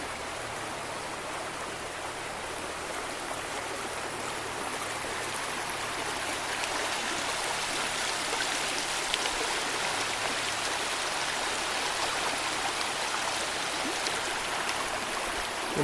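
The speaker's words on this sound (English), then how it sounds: "Here's what it looks like hopping across the rocks at Piney River." The Piney River in Shenandoah National Park rushes over rocks in a steady, close, loud broadband wash of flowing water that holds constant throughout, with no voices.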